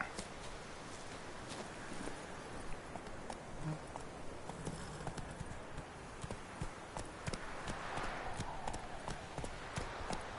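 Horse hooves clip-clop in a quick, steady rhythm over a gritty surface in the video game The Witcher 3: Wild Hunt, with faint background noise and no clear talking.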